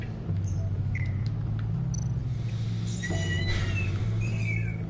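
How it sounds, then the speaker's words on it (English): A recording of cat noises plays back, several distinct meows and chirps scattered over a steady low hum, moderately loud and without speech. "Let's turn on cat noises, she'll straight up wake up."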